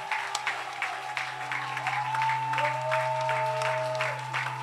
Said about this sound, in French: De tout ton cœur, acclame-le.